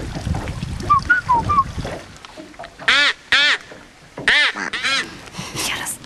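A handful of loud, close duck quacks come in separate bursts after some quieter murmuring at the start.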